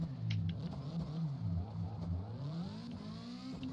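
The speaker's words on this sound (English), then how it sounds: "See, you see that bogging sensation you're hearing down there." A car engine labours and bogs at low RPM on a street-and-competition build, its deep uneven drone holding steady and close throughout, with a slow climbing note struggling upward and no talk over it.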